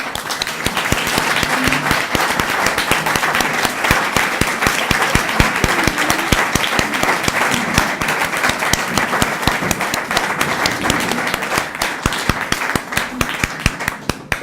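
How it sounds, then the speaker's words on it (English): Sustained audience applause at a human rights center event, steady dense clapping from a large seated crowd continuing for a long stretch with little talk. "please stand and receive our applause?"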